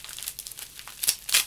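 Bubble wrap packing from a parcel crinkles and rustles in quick, close, irregular bursts, with a louder crackle near the end and no talk.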